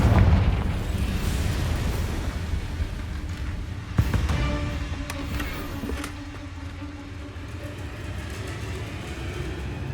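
In the Hogwarts Legacy video game, a Confringo fire spell bursts into a sharp explosion with a single crack, followed by rumbling magical effects and crackling debris under a steady game background.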